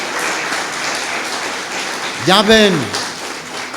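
A congregation claps steadily through a Spanish-language Christian church service, with continuous applause running beneath a voice as he speaks.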